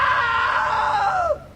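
A man screams in What Remains of Edith Finch, a loud sustained cry that falls in pitch before cutting off abruptly.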